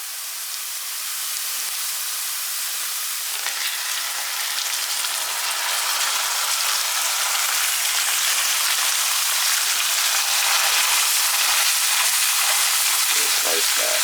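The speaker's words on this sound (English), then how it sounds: "You want to go ahead and add your ground beef." Ground beef hits a hot pan of browned sauteed onions for an enchilada casserole, giving a steady, loud hiss and crackle like rain that runs throughout with no pauses.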